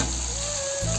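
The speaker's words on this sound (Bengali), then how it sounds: "ভেন্ডি কটা ভালো করে কষাই নেবো মশলার সাথে" Okra (bhindi) frying with masala in a pan, a brief loud continuous sizzle close up with a steady hiss and no voices.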